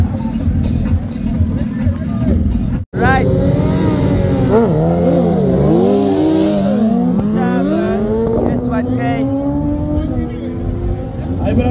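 BMW S1000RR and Suzuki Hayabusa motorcycles drag racing at a desert rally, engines screaming loud and close with rising and falling revs through quick shifts, a commentator talking over the roar throughout.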